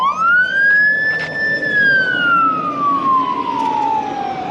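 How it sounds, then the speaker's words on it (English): A single siren wail rises and then slowly falls in pitch, loud and fairly close, sweeping past against steady background noise in Twentynine Palms, California. "Sorry, siren."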